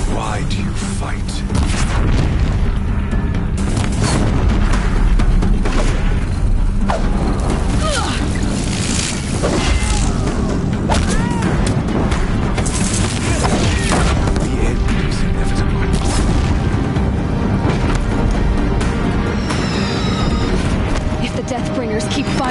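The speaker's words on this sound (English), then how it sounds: "Deathbringers keep firing, this bridge will go." Deathbringer machines firing explosive shots in the Horizon Zero Dawn video game, with dense, continuous crashing blasts and thuds throughout amid battle noise, mixed with a voice talking.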